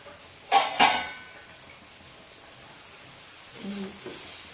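A lid comes off a pan of kachu loti (taro stolon curry) as it cooks: two quick metallic clanks close together near the start, then quiet room tone with a faint low murmur later.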